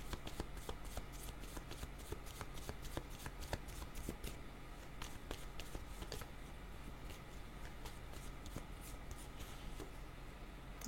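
Tarot cards shuffled by hand for a card reading, a steady run of soft riffling flicks and papery slaps that keeps going close up at low volume with no voices.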